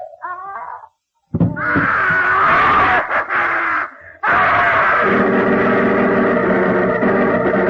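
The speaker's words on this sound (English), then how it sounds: "That scream?" A ghastly scream from a radio drama, a long, loud, wavering wail that breaks off and returns, nearly filling the clip with no speech over it.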